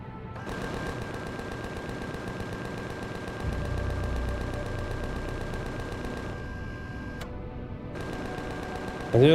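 Rapid automatic fire from ship weapons in the space game Empyrion, a fast steady stream of shots running through most of the clip with a deeper rumble partway through and a louder burst at the end.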